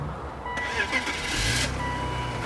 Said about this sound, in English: The cylinder head is clicking.